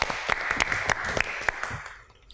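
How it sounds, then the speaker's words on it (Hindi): A game-show studio audience breaks into brief applause, quick claps rising together and then thinning out and fading within a couple of seconds. "तालियां"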